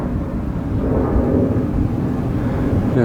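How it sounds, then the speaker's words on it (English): A jet airliner climbing out from McCarran airport in stormy weather, heard as a steady, distant low roar that rumbles on without a break for about three seconds. "that's a jet from McCarran, and he's got to have a bumpy climb out."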